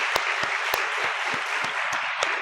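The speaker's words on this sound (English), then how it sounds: "please join me in a warm round of applause for the committee members" An audience at a student employee awards ceremony claps warmly, with several sharp individual claps standing out near the microphone above the steady applause.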